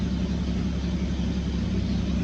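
A small car engine runs steadily in a continuous idle drone with a low mid-pitched hum. It is heard close, with no voices over it.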